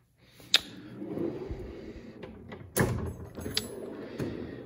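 A wrench drawer in a large Snap-on tool box slides open with a sharp metallic clack, a rolling rumble and a second louder clunk, then light rattles of metal tools close by.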